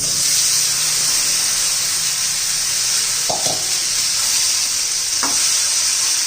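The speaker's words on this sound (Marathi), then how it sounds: "दुधी भोपळा घालून घेणार आहोत" Bottle gourd tossed into a sizzling pan, a loud continuous frying hiss with a couple of sharp spoon clinks against the pan, close and with no talking.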